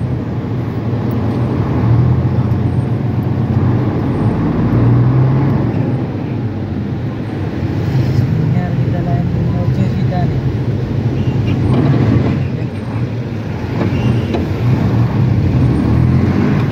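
Steady road traffic surrounds the listener, a continuous loud rumble of engines and passing vehicles that swells and fades at times, with people talking over it.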